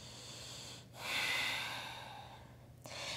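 Heavy breathing in a yoga downward-facing dog pose, a few slow, close, airy exhales and inhales with a soft snort-like breath.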